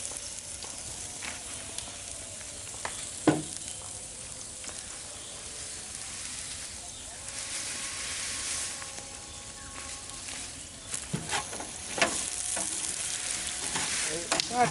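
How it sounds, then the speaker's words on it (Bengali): Vegetables and onion fry in a pan at a village kitchen, a soft continuous sizzle like light rain with occasional stirring knocks and scrapes, fairly faint and steady, no voices. "এটা ভেজে নেব ভাই, এবং সেই সময় পেঁয়াজটা আগে দিলাম"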